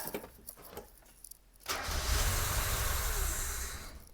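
An NA Mazda Miata with an earlier intake backfire and no-start fault turns over after a few faint clicks and cranks, then catches and settles into a loud, rough, steady idle close by.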